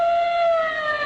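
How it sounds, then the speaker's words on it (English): A police car siren wails loud and steady in a brief burst, a sound effect in a 1940 radio comedy as the car speeds through Chinatown streets, heard alone. "his siren screaming"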